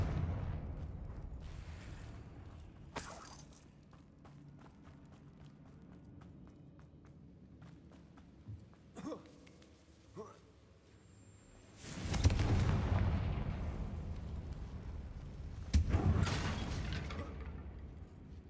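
Fiery spell blasts in the video game Hogwarts Legacy, with two strong booming explosions late on, set against quieter game ambience, footsteps and small mechanical clicks.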